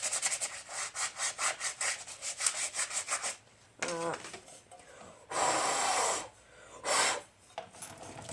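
Hand sanding on a part for a Honda CRF70 pit bike build, with rhythmic back-and-forth rubbing strokes for several seconds, then a pause and a few longer, louder bursts of scraping.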